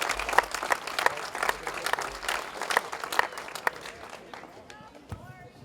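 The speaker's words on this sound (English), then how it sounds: "give yourselves a big round of applause for that" Outdoor crowd applause at a community playground build in a park, with loud individual claps and cheers that taper off, while voices talk underneath and a distant bird-like chirping emerges as the clapping fades.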